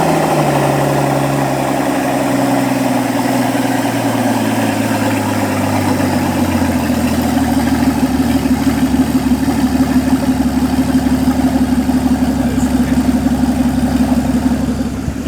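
A 2005 Mercedes-Benz AMG SL600 V12 with no exhaust installed and upgraded turbos idles close by, a loud, steady, deep rumble with a lumpy low throb that holds level for the whole stretch.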